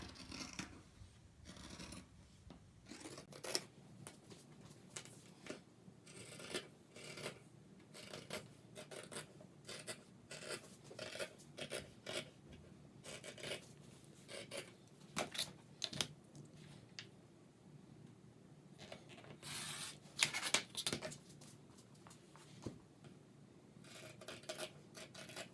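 Scissors snip through interfacing fabric while trimming corners, a close, quiet series of crisp rasping cuts and rubbing sounds in irregular bursts, with a louder cluster of snips near the end.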